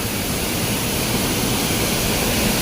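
A waterfall on a stream just below houses in Konkan gives a steady, broadband roar, close and unbroken with no voices.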